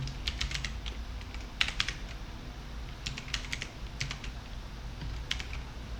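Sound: typing on a computer keyboard

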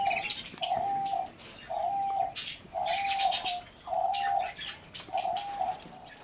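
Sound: turtle dove cooing during its dance

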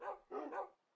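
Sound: dogs barking in Minecraft (video game)

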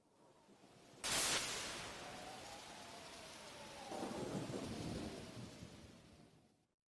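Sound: thunder in a stormy night, Pokémon Mystery Dungeon video game

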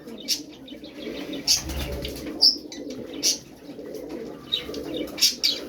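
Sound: pet birds cooing

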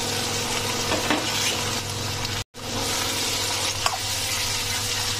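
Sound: potatoes, peas and cauliflower being stir-fried for poha

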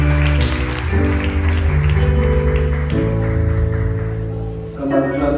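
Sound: congregation clapping

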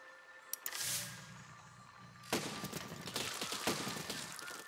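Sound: cannon firing in the video game Besiege

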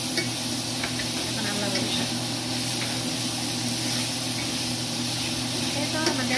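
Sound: leafy greens frying in a pan

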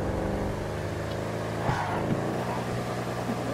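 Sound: car engine revving in a video game, GTA Online

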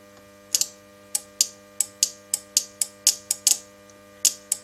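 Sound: relay clicking in welding inverter

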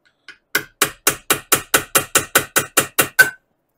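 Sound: punch marking metal before drilling

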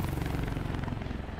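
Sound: helicopter flying past in Spider-Man Remastered video game

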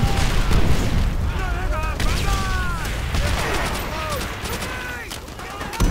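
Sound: explosion in Call of Duty: World at War video game

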